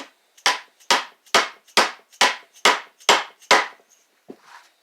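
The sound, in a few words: rubber mallet tapping Harley engine part onto splines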